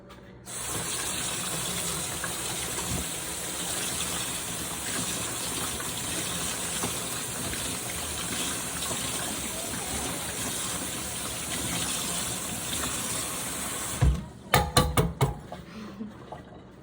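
A whisk is rinsed under a running kitchen tap, a steady gush of water into the sink that stops near the end, followed by a few close clinks and knocks.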